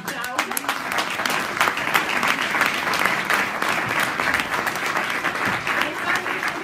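An audience claps for a local political club at a public meeting in Moncalieri, loud sustained applause close by with voices mixed in.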